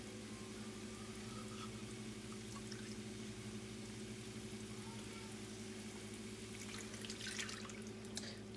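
Milk is poured for a gravy or sauce during cheap home dinner cooking: a faint, steady trickle with a few drips near the end over a constant low hum, no talk.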